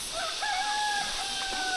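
A rooster crows once at midday in the Buscalan tattoo village in the Philippines, a long, drawn-out call heard at a distance over a steady background hiss.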